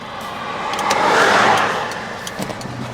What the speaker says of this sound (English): One more car.